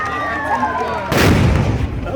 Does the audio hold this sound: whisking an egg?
no